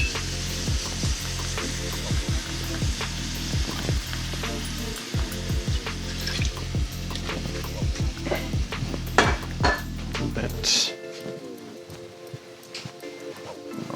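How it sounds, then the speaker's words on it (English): Cajun corn maque choux bubbling and thickening in a pan, a dense sizzle with rapid repeated utensil scrapes and clicks for about ten seconds before it drops to a quieter simmer with a few light taps. "Let it come to a boil, and then it's just gonna thicken."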